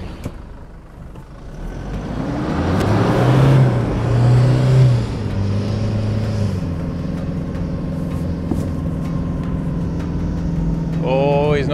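A 4x4 engine revs hard and strains at length while stuck digging into sand dunes, droning and labouring without moving off, with voices talking faintly in the background.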